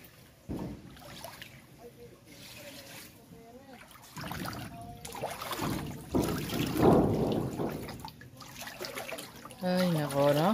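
Someone wades through deep high-tide floodwater in Taliptip, Bulakan, Bulacan, with sloshing and trickling splashes rising in bursts, and voices talking throughout.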